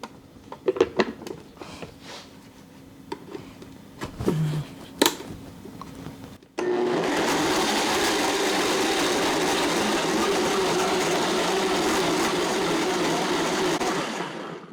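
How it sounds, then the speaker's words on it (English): After some brief clatter, an electric blender suddenly starts and grinds eight garlic cloves for enchilada sauce with a loud, steady whirring roar that holds without a break until the end. "I'm going to grind it up real fine."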